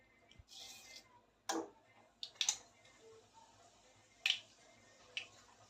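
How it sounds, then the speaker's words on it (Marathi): Mustard seeds crackle and pop in hot oil in a pan, a few sharp, scattered pops at irregular intervals over a quiet background. "मोहरी तडतडायला लागली आहे"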